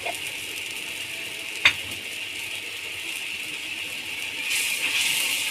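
Ginger paste and garam masala frying in a pan, a steady hiss of sizzling with one sharp clink of a utensil partway through, the frying growing slightly louder near the end.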